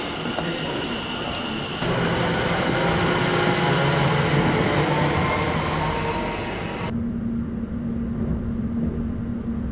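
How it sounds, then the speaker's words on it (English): A train rumbling close by, loud and steady, its roar dropping to a lower hum as it slows approaching Shenfield station. "That's my train."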